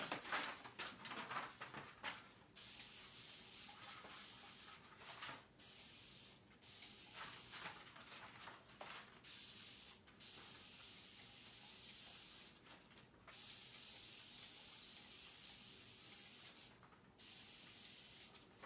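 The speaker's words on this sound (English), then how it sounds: "Oh, I need to spray my paper, don't I?" A spray bottle mists decoupage paper in a long series of quick hissing bursts, some clustered and some spaced apart, close and fairly quiet with no talking.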